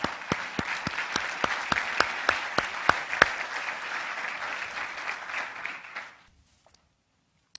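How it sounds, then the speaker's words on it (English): An audience applauds during a servant leadership keynote, with sharp individual claps standing out over a dense, even roar of clapping that stops abruptly near the end, leaving silence. "So I would like us to applaud."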